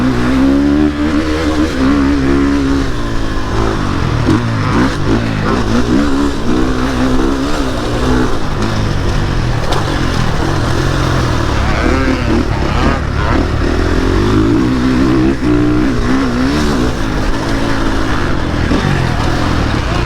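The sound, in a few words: KTM 450 SX-F motocross bike engine revving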